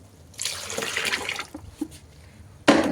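Liquid plant food being poured out slowly, a soft splashing trickle that comes and goes, followed by a sudden louder burst of running liquid at the end, close by with no speech.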